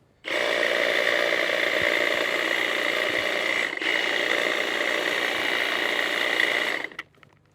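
A Milwaukee M18 cordless pole hedge trimmer runs at steady full speed while doing light trimming, a loud continuous buzzing whine that holds for about six seconds, dips briefly once, and then cuts off.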